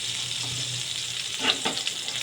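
Chilli bajji frying in hot oil gives a steady, soft sizzle throughout, with a few brief bubbling crackles near the middle; no voices.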